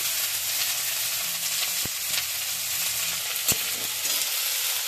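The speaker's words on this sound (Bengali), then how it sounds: "তেলটা গরম হয়ে গেছে আমি এবার পেঁয়াজ আর আলু কুচানো দিয়ে দিচ্ছি" Chopped onion and potato frying in hot oil with dried chilli and black cumin, a steady broadband sizzle throughout with a couple of sharp spatter pops, no voices.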